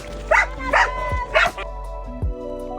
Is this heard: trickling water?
no